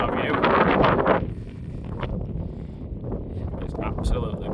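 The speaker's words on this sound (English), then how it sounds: "I'm sorry if you can hear the wind, it's very windy." Strong wind gusts across the open hilltop of Mam Tor in the Peak District, roaring loudly against the phone microphone at first and then easing to a steady rumble beneath a talking voice.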